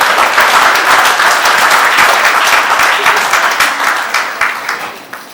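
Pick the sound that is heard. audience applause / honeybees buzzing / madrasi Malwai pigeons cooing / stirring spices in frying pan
audience applause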